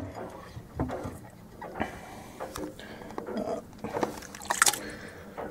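Catfish pieces go into a simmering Cobb Island catfish stew with soft, quiet splashes and wet squelches, plus a few light clinks of the pot.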